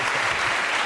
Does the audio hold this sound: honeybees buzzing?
no